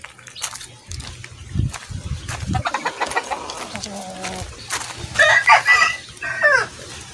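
Chickens cluck in a small backyard coop while a rooster crows loudly, the birds close by with overlapping calls and faint background noise.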